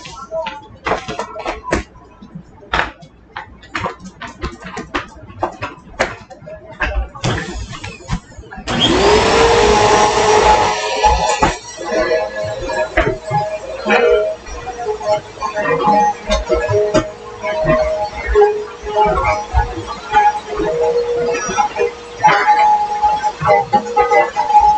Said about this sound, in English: We're getting ready to vacuum up.